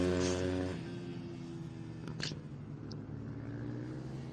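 Kawasaki supermoto racing motorcycle, number 87, lapping a track at a North American Supermoto event, its engine a steady droning hum at moderate distance with a brief rise in revs midway.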